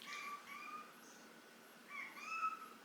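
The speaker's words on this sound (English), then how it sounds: "That is Squid meowing out into the void, hoping that someone will let him outside" A cat meows several times, plaintive and drawn out, a pair of cries then a pause before more, faint and somewhat distant in a quiet room.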